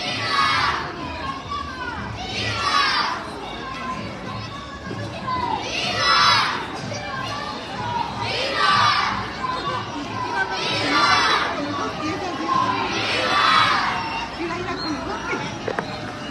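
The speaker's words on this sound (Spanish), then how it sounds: "Vamos a guardar un poco de silencio para escuchar el grito de estos pequeños." Children in a patriotic holiday parade in Sahuayo shout in repeated rhythmic bursts, roughly every two to three seconds, over a steady outdoor crowd murmur, loud and fairly close.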